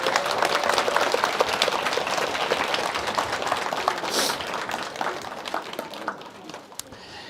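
Warm applause from a lecture audience at Pilam Seowon, a steady broadband patter of many hands that holds for several seconds and then thins out toward the end, with some murmuring mixed in.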